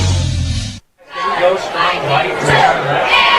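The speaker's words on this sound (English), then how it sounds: "the crowd's pretty excited on homecoming night here at Seaman" Crowd at a homecoming night high school football game at Seaman, a broad roar of chatter and cheering that cuts in after a brief silence and stays loud and steady, with voices mixed throughout.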